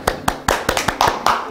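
A small group of people clapping, seven or so sharp, close claps in an uneven rhythm with voices around them.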